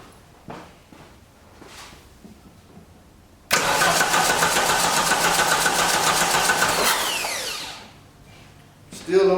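A 1989 Dodge Daytona ES engine cranks for about three and a half seconds without firing, a loud, steady whirring churn that stops abruptly, with quiet sounds before and after.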